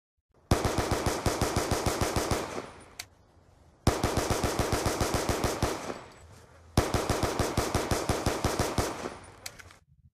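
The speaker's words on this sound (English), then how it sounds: "it actually makes a huge difference when shooting from the hip without a laser sight" Rapid semi-automatic bursts from a Tac-45 handgun fired from the hip without a laser sight in Black Ops 2, three long volleys of evenly spaced loud shots separated by short pauses, with no talk.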